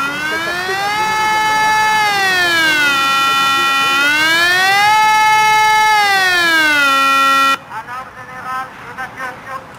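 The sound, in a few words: civil protection evacuation siren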